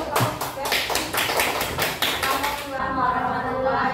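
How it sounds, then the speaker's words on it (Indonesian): Classmates in a university class applaud presenting group 3 with a quick run of evenly spaced claps for under three seconds, followed by a voice speaking. "beri tepuk tangan untuk kelompok 3"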